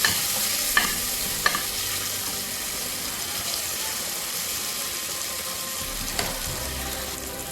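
Haitian rice with pigeon peas fries in a pot over medium heat, a steady sizzle with a few sharp scraping knocks of stirring near the start and again later.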